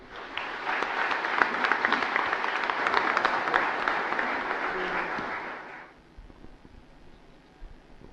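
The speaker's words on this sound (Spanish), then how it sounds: "Expresamos nuestra alegría con un fuerte aplauso." A congregation at a priestly ordination Mass claps loudly and steadily for several seconds, then the applause stops abruptly, leaving quiet room noise.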